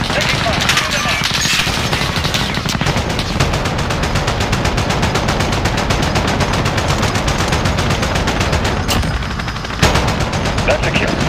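Rapid, loud automatic gunfire in a video game, sustained bursts running almost continuously with a brief lull near the end, while voices call out over the shooting.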